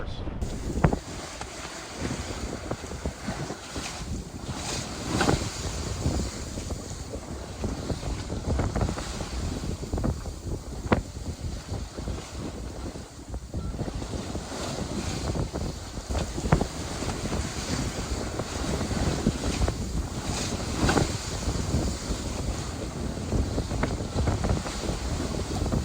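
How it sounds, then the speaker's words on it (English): A sailboat motor sailing across the Pacific Ocean, with a continuous broad wash of wind, water and engine noise buffeting the microphone throughout. "we had to motor sail for about the first 2 or 3 hours"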